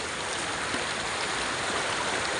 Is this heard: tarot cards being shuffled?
no